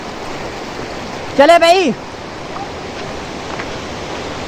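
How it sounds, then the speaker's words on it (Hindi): Steady rushing water from a stream or waterfall at an outdoor pool spot, a continuous wash of noise throughout, briefly covered by someone speaking in the middle. "किस जगह से पानी आ रहा है?"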